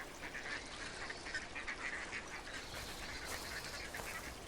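Ducks quacking and honking in repeated nasal calls, several birds fairly close and loud over a steady outdoor background, with no talk.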